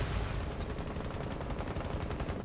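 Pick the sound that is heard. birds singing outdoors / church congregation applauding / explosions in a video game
explosions in a video game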